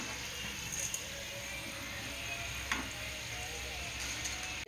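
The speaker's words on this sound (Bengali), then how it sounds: "অল্প অল্প করে দিয়ে ভেজে নেবো আমি ডালটাকে" Chana dal fries in white oil in a pan, giving a steady, even sizzle throughout with a few faint ticks and pops, and no voices.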